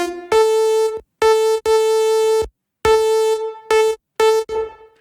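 A bright synthesizer plays a series of sustained notes in short bursts, each trailing off in a soft reverberant wash between phrases, with no voices.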